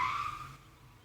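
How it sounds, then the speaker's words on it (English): Road traffic at a traffic circle behind a house, a car's tires squealing briefly as it rounds the curve, then fading into a low distant rumble of vehicles. "Traffic circle right behind my house."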